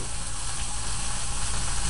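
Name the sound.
steak sizzling in a pan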